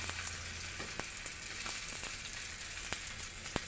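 Frozen tilapia and milkfish heads fry in hot oil in a pan, a steady close sizzle with occasional sharp pops and faint scraping as the fish is turned.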